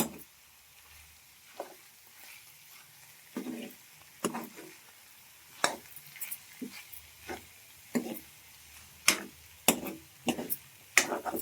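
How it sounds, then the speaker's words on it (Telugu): Chili powder being stirred into a pan of ivy gourd fry: soft scraping and tapping strokes at an uneven rhythm, close and fairly quiet, with no talking. "మిరప్పొడి వేసుకున్న తర్వాత ఇలా కలుపుకోవాలి."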